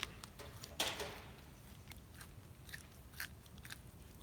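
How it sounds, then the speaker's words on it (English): A crunchy bite into a 7-Eleven Japan creme brulee saku pastry, one sharp crackling crunch followed by a few softer crumbly chews, close up and fairly quiet with no talking. "You hear the crunch?"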